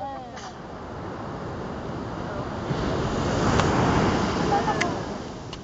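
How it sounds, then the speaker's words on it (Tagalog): Ocean waves crash and surge in a continuous roar at Pundakit beach, swelling louder midway, with wind buffeting the microphone. "Nagugulat siya sa laki ng alon, sa lakas ng alon"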